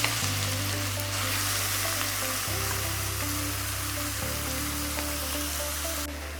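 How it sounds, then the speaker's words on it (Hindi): Minced meat for dam qeema sizzles steadily in ghee with previously fried onions, a continuous crackling hiss with a faint stir, heard under loud sustained background music tones. "जिस घी के अंदर मैंने प्याज को फ्राई किया था, अब मैं उसमें कीमा ऐड कर रही हूँ"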